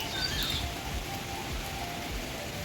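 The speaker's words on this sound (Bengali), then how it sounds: "নিম্নচাপের মতন শুধু হাওয়া হচ্ছে আর বৃষ্টি হচ্ছে" Steady rain with wind, like a low-pressure storm, falling continuously outdoors as a broad even wash of noise, with faint bird calls briefly over it.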